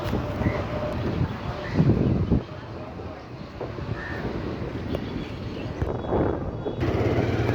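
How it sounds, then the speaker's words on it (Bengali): Wind rushes and buffets the microphone on an afternoon motorbike ride around Chittagong University: a steady, close, low roar that swells and dips throughout, with voices talking over it at times. "সেরা বাতাস সেরা ওয়েদার"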